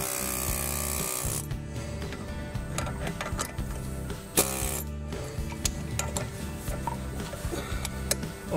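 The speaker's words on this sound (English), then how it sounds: "Okay, so here we go, air chisel away" A pneumatic air chisel hammers at a front control arm bushing on a BMW E36 M3, a loud, continuous rapid-fire rattle close up with brief pauses and bursts as the tool is repositioned, and no talking.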